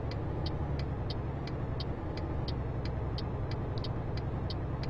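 A truck in a driving video game cruising the A7 motorway toward Hannover, steady low engine and road drone with a regular soft ticking over it, alone without talk.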